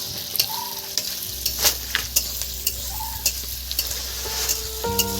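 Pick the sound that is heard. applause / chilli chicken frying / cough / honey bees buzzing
chilli chicken frying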